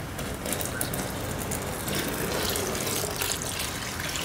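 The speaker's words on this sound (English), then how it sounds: "Okay, so after that, I'm going to add the soy sauce." Regular soy sauce, 32 ounces of it, is poured into a pot for homemade teriyaki sauce, making a steady, close gushing splash that runs continuously for a few seconds.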